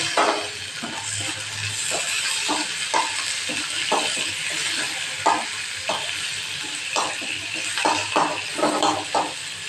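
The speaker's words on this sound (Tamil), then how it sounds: "தக்காளி மட்டும் கொஞ்சம் வதங்கணும் இப்போ கொஞ்சம் நல்லா வதங்க ஆரம்பிச்சிருச்சு" Tomatoes with ginger sauté in a hot pan for beetroot thuvaiyal, a steady close sizzle broken by repeated scraping stirs of a spatula against the metal, with no talking.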